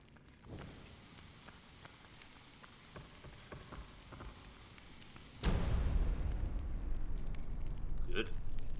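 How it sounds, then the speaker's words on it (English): An explosion in the video game Ico erupts suddenly after a stretch of quieter rain-like ambience, becoming a loud, sustained roaring rumble that carries on to the end. "when Yorda looked up at that explosion"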